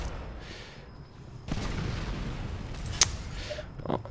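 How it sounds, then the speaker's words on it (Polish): A grenade explodes in the shooter video game Ghost Recon Phantoms with a loud, rumbling burst. Scattered gunfire cracks through the battle noise, with one sharp report standing out near the end. "tam granatę rzućmy"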